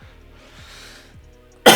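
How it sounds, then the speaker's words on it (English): A single sharp, loud cough bursts out at the very end after near-silence, coming from someone who has a lingering cough. "I've still got a wee bit of a cough."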